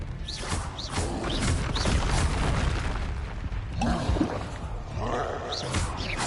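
Confringo fire spells burst and boom one after another during Hogwarts Legacy combat, a dense, continuous roar of blasts and crashes close and loud with no break.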